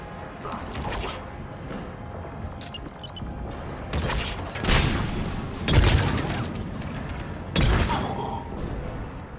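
Heavy cannon fire and booming explosions in the video game Mass Effect 3, several loud blasts and crashes bursting over a rumbling battle backdrop, with no speech.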